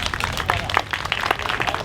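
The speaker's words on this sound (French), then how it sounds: "J'aimerais qu'on applaudisse Bernard, s'il vous plaît" An audience applauds Bernard with a steady, close wash of many overlapping hand claps that holds at an even level for the whole stretch, with no voices on top.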